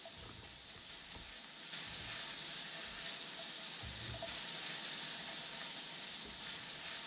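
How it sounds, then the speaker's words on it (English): Steady frying hiss with crackly sizzling from halibut in a hot pan, fairly quiet and continuous, with a few soft low bumps. "I love that sizzle."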